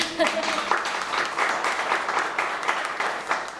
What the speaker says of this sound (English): So how about we give each other a round of applause?